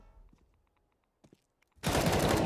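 Gunfire in a professional CS:GO match on the Train map: after a near-silent stretch with a few faint ticks, a loud, dense burst of rapid shots erupts and continues.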